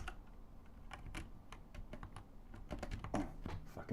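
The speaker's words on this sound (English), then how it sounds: "fucking mechanical keyboard, dude" Rapid, uneven clacking of a mechanical computer keyboard being typed on, with many sharp individual keystrokes close to the microphone and no talking.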